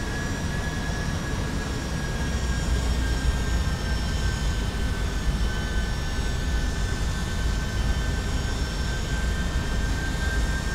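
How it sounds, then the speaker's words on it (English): Flight Factor jet airliner engines in the X-Plane 11 flight simulator produce a steady, loud roar with a faint high whine, holding constant throughout as thrust is applied to get moving. "These engine sounds, yes, they are part of flight factors."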